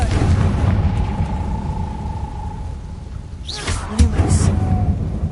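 In the video game Hogwarts Legacy, a cast Confringo spell bursts into a loud, rumbling fiery explosion over a steady background drone, with a voice speaking during the clip.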